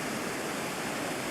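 Steady roar of a 150-foot vertical waterfall in Scotland, heard from above looking down, a dense continuous rush of falling water with no voices.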